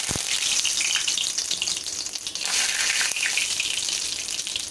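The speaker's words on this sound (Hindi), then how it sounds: "तेल अच्छा गर्म हो जाएगा तो हम इसमें डालेंगे हमारा कड़ी पत्ता" Curry leaves hit hot oil in a kadhai while a pumpkin sabji is cooked, giving a loud, steady close-up sizzle and hiss with a crackle at the start.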